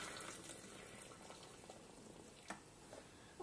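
Water is poured over tea in an infusion egg for a turmeric ginger tea, a faint, steady liquid rush and bubbling with a few soft clicks, close by and without talk.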